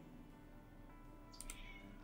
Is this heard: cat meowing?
yes